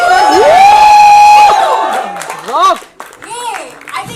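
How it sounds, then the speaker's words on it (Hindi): A crowd cheers and hoots at a film trailer launch event, loud close whoops and rising, wavering shouts with some clapping, several voices hollering over one another before breaking into further cheers. "Come on guys, थोड़ी हूटिंग कर दो यार."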